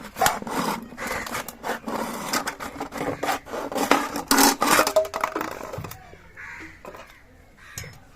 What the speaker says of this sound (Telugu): ఇలా అయితే నిదానంగా ఎడ్జ్ కాడికి కట్ చేస్తున్నాం